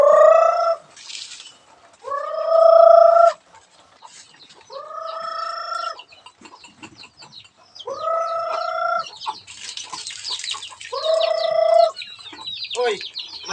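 Native chickens at feeding time give loud, drawn-out clucks and crow-like calls in repeated bursts, with softer clucking and scattered bird chatter filling the gaps between them.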